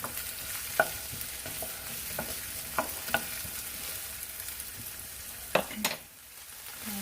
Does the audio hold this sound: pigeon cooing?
no